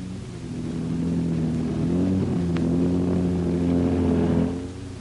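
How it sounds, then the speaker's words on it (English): A wartime sonic deception car projects a recorded tank column sound effect, heard as a steady, loud mechanical engine drone with layered low tones that swell, dip briefly midway, then fade near the end. "Sonic Car 3 started projecting the sound of a tank column."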